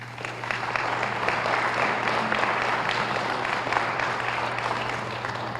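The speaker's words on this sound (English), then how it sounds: "I ask for a round of applause" A hall audience at a veterans' council centennial ceremony applauds steadily, a dense, even patter of many hands held at moderate volume over a low electrical hum, tapering slightly at the end.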